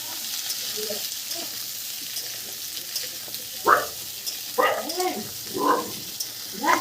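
Potato pieces slide into hot oil in a pan for a Bengali aloo potol curry, giving a steady, moderate sizzle that runs beneath intermittent close talking.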